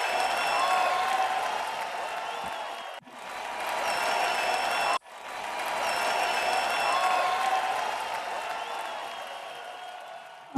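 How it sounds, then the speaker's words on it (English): A banquet audience applauds at length, loud and continuous, with two brief sharp breaks in the clapping before it swells again. Scattered cheers rise over the dense clatter of hands. "Karis, the crowd is going wild."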